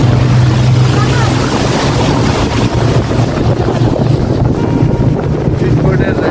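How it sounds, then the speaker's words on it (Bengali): A speedboat ride on the water at Subarna Gram Resort in Narayanganj, with a loud, steady engine drone and rushing water, heavy wind buffeting the microphone the whole time, and no clear speech. "আমরা এখন স্পিড বোট রাইড উঠবো।"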